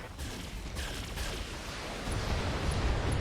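Mech weapons in RogueTech open up on a Highlander, a dense, continuous roaring barrage of overlapping blasts and rumble that swells louder toward the end, with no pauses between shots.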